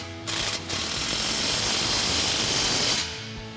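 Dense, loud mechanical rattle-hiss runs about three seconds as a 13mm socket tightens a ball flare clamp on a 2019-2024 Sierra 1500 AWE dual exhaust, starting and stopping abruptly.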